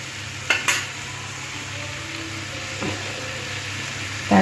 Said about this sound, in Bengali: এইভাবে আলুর সাথে মিশিয়ে নেব